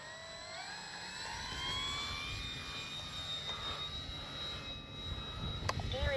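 Dynam ME BF-109 RC warbird airplane flying overhead, a faint whining electric motor and prop tone gliding in pitch as it passes at a distance over open-air wind noise.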